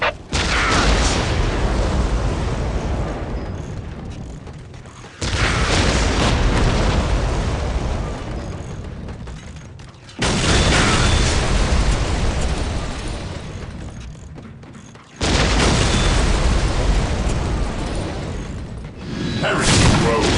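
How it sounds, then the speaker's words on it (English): Whirlwind missile battery salvos in a Warhammer 40K: Dawn of War battle, four loud booming explosive bursts at roughly five-second intervals, each rumbling and fading before the next launch, with no talk. "Preparing whirlwind missile battery to fire."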